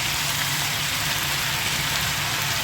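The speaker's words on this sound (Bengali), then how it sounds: "পেঁয়াজটা হালকা ভেজে নিলাম, এখন পুঁই শাকটা দিয়ে দিচ্ছি" Malabar spinach dropped into a pan of lightly fried onion, garlic and green chilli, giving a steady, even sizzle of hot oil that holds at the same level throughout, close up, with no voices.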